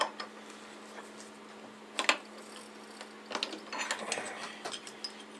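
A cheap milling cutter is worked loose and pulled from a milling machine, giving scattered ratchet-like clicks and small metallic knocks, with one sharper cluster near the middle and a busier run toward the end.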